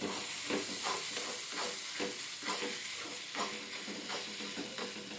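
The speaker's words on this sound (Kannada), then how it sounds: "ಓಕೆ, ಸೊ ಮತ್ತೆ ಫ್ರೈ ಮಾಡ್ಕೊಳ್ಳಿ." Rhythmic scraping and sizzling of a pan-fried topping mixture with a few drops of ketchup for bread pizza on a stove, steady and close with regular stirring strokes, no talking.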